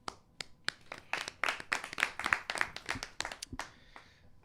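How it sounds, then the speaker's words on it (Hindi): Applause from an audience at a Hindi poetry gathering, a burst of scattered clapping that swells to a lively peak and thins out to a few last claps, fairly distant and without talk. "तो लीजिए हम पुनः इस कवि सम्मेलन को आपकी जोरदार तालियों के बीच प्रारंभ करते हैं"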